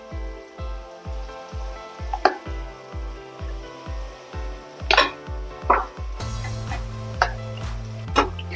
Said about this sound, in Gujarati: હવે આપણે પેલી જે ગ્રેવી રેડી કરી હતી એ હવે આપણે અંદર નાખી દઈશું.